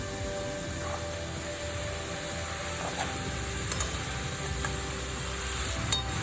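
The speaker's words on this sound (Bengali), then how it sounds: "এবার মশলার মধ্যে লাউটা আমি ভালো করে মিশিয়ে নেব" Shredded bottle gourd is stirred into hot spices in a pan for a Bengali fish-head lau ghonto, with a steady close sizzle and occasional light clinks of a utensil.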